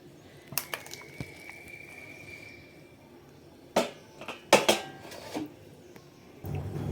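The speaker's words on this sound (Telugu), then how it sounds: "చక్కగా తయారీ పిండిని గిన్నెలోకి తీసుకుందాం" Moong dal batter for pesarattu is scraped into a bowl, heard as a few scattered metallic clinks and knocks of spoon against vessel, close and fairly quiet, with no voices.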